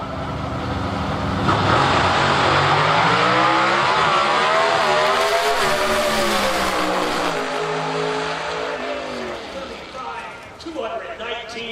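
Chevrolet and Ford drag race cars roar through a qualifying run at an IHRA nitro event in Palm Beach, a loud sustained engine blast that rises in pitch and fades, under continuous commentary from an announcer.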